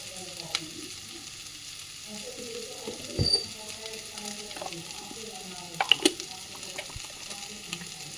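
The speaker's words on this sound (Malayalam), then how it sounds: "ഇനി നമുക്കിതൊരു ചീനച്ചട്ടിയിലോട്ട് കടുക് വറുത്തിട്ട് തേങ്ങായും ഇടാം." Mustard seeds in hot oil in a kadai sputter faintly, with a low sizzle and a few sharp pops scattered across the stretch, while a voice murmurs quietly in the background.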